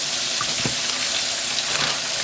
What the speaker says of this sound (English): You want that frying